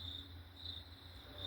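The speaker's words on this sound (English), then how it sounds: "all that noise is YouTube crickets" Crickets chirping from a recording played back, a steady continuous trill held throughout, fairly loud and alone with no talk over it.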